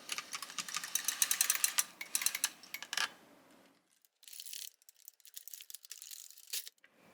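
An LK150 knitting machine's carriage is pushed across the needle bed, giving a dense run of rapid clattering clicks and ratchety scrapes, then a pause and a second, lighter burst of clicking.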